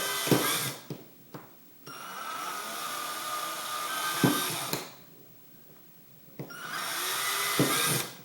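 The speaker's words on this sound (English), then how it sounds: "I like to drill 5" Several bursts of a high-pitched small drill with a 1/16 bit whirring through a soda can, each starting and stopping abruptly with quieter gaps between, close and fairly loud.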